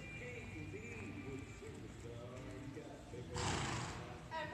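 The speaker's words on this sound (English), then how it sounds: "And for those of that don't know Peanut, she's the horse that was given to me for being too aggressive and chasing people out of the paddock." A young mare with under two months of training, out at an unfamiliar site, gives a long low whinny and snorts. A harsher breathy burst follows near the end, with steady background noise throughout.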